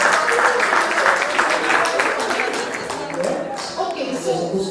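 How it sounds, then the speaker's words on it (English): Applause at an alumni association annual general meeting fills the room with dense, steady clapping, loud and sustained, fading somewhat toward the end as a voice begins to come through. "Another round of applause"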